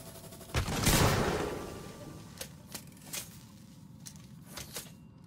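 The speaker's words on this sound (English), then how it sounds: "I like how powerful the bolt gun is." A bolt gun fires in the game Alien: Isolation, opening with a heavy impact blast that rolls off, then a string of sharp clicking mechanical snaps at uneven intervals, close over a hissing background.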